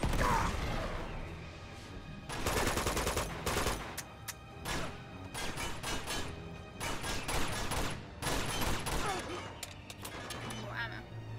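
Rapid bursts of gunfire in the video game Uncharted 2: Among Thieves Remastered, sharp shots and automatic volleys in clusters with short pauses, loud and continuous throughout.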